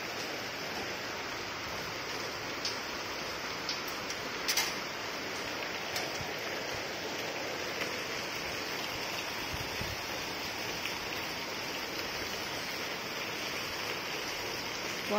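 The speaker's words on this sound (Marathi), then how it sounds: "असा हा पाऊस मोठाच्या मोठा पडलेला आहे" Heavy May rain pours steadily onto a street while runoff rushes through a full gutter, a dense, continuous wash of water that stays close and even throughout, with no voices.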